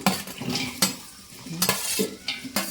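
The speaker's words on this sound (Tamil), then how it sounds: "வெங்காயம் பச்சை மிளகாய் போடவும் பொன்னிறமாக வரும் வரை வதக்கவும்" Onions and green chillies stir-fried in groundnut oil in a kadai over a wood-fired stove, with a steady sizzle and repeated sharp scrapes and clinks of a ladle against the pan.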